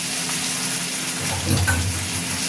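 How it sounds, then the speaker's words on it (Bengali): Prawns frying in an iron wok give a continuous close hiss and sizzle that swells briefly midway, with no voices. "লোহার কড়াই আমি আগে চিংড়ি মাছগুলো এই যে দিয়ে দিচ্ছি। চিংড়ি মাছগুলো ভেজে নেবো।"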